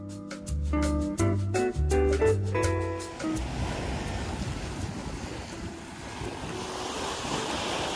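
Sea waves wash over a rocky beach in Vancouver in a steady broadband roar with wind, after a few seconds of plucked music at the start.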